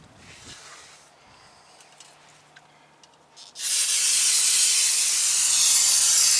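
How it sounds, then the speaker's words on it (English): Fluid Film aerosol sprayed onto front brake parts of a 2012 Dodge Ram Bighorn 1500, a loud continuous hissing spray that starts abruptly after a quieter stretch and runs steadily to the end. "Give that a little shot of fluid film as well."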